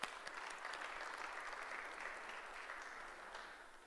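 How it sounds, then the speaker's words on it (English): A church congregation at a morning worship service claps steadily in dense, continuous applause that holds an even level throughout, with no voices rising above it. "give him a good hand clap of praise"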